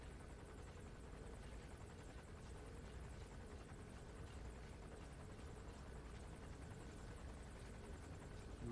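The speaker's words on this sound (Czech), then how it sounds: "Co také helikoptéra, bude tam dlouho takhle stát?" A helicopter hovers in Metal Gear Solid 5: Phantom Pain, its rotor and engine drone holding steady and moderately loud throughout, with no talk over it.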